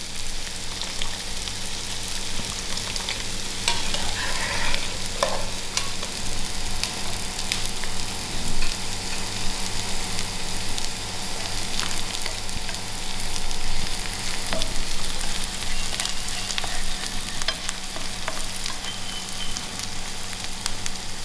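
Lamb and lentil dhal sizzles and fries in a pot, a steady close crackle with occasional stirring scrapes, continuous and moderately loud.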